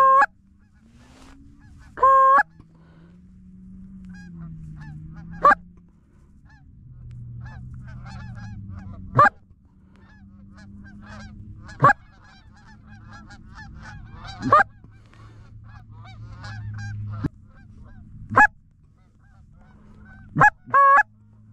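Canada geese honk repeatedly during a late-season hunt, sharp calls arriving in irregular bursts, some near and loud, others softer, over a low steady outdoor rumble.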